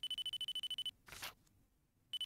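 A mobile phone in a DS mystery video game rings in a rapid run of pulsing electronic beeps, then breaks off for a soft whoosh and a short quiet before the ringing starts again.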